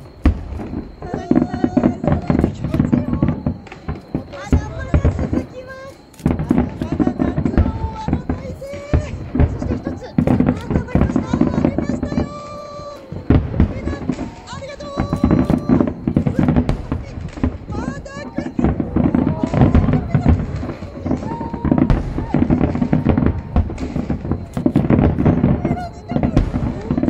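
Gold fireworks burst in rapid succession at the Takasaki fireworks festival in Japan, a continuous volley of loud booms and crackles with crowd noise and voices underneath.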